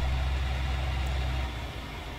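A tractor engine idles in Farming Simulator 19, a steady low rumble that drops slightly in level partway through, with no talking.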